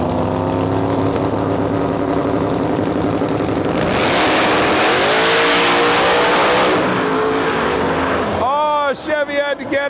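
Pro Mod drag cars, a Chevy against a Mach 1 Mustang, roar loudly off the line at a Saturday night qualifying session of the Rocky Mountain Nationals, with the engine note climbing through the run before cutting off near the end, and announcers talking over it.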